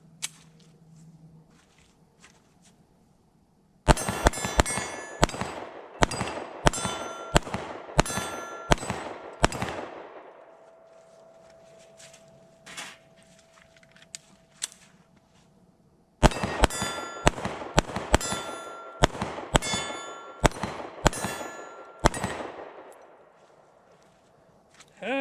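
A Sig P365 pistol fires two rapid strings of sharp shots, each followed by the ringing clang of steel targets being hit, with a lingering metallic tone between the strings.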